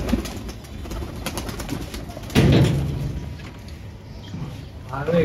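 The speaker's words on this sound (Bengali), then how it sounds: "আমি একটু বাইরে কবুতর ছাড়ছি আজকে মদ্দাদের।" Male pigeons coo at a loft in soft repeated throaty calls, with voices talking nearby and a louder burst partway through.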